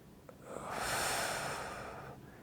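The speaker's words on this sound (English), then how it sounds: "Nice deep breath" A person takes one slow, deep breath in, a soft airy rush that swells and fades over about two seconds, close and quiet.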